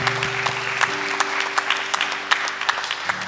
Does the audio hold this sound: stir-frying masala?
no